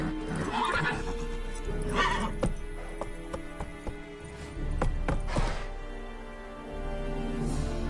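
A horse in The Witcher whinnies loudly twice, then trots off with crisp, rhythmic clip-clop hoofbeats that carry through the rest of the scene.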